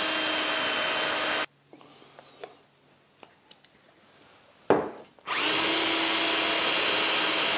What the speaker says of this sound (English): I can now use this here to drill holes in this piece